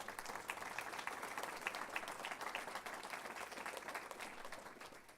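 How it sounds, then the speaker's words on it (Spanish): Sustained applause from a church congregation, steady dense clapping throughout at moderate volume, tapering slightly at the end. "Den un aplauso fuerte a Cristo."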